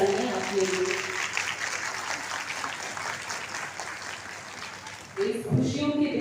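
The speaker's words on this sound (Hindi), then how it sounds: "तो एक बार जोरदार तालियां आप लोगों।" Audience at a stage program clapping loudly and steadily for several seconds, with a voice talking briefly before and after the applause.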